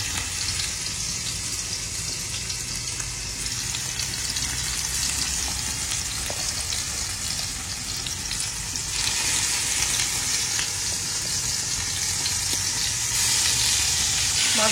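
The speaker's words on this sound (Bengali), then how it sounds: "মাছগুলো এবার আমি খুব কড়া করে ভেজে নেবো" Hilsa fish fry crisply in hot oil in a pan, giving a loud, constant sizzle that holds steady throughout with slight swells and no talking.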